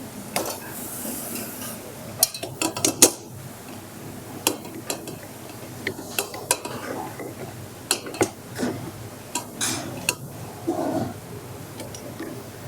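A whisk clicks and taps irregularly against a bowl while whipping six egg whites with icing sugar, sharp close strikes scattered over a quiet kitchen background.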